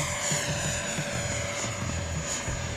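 An FMS FA-18F Super Hornet 70mm EDF radio-controlled jet flies past below full throttle, giving a steady, loud ducted-fan whine with a sustained high tone that holds throughout.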